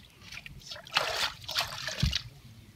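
Water trickles and splashes in a few soft bursts, close by and fairly quiet.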